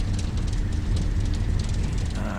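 Twin engines of a Carenado Cessna 340 in the FSX flight simulator roar steadily at takeoff power, a dense continuous drone with no talk over it.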